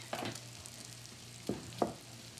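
Bacon fries in a skillet with a soft, steady crackle, broken by a few sharp spatters and scrapes of a utensil, quiet and close with no voices.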